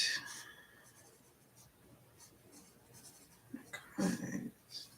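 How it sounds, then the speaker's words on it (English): A note being written by hand: faint, intermittent pen scratching close by, with a louder burst of scratching toward the end and quiet voice sounds in between. "All right, Lily, let me make that note."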